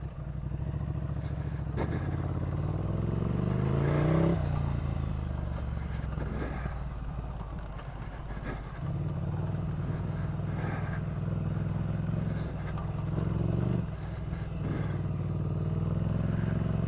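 A 2015 Ducati Scrambler 800cc motorcycle engine runs steadily and loud throughout, with rising and falling revs and gear changes as it rides along a track, plus occasional clatter and wind rush.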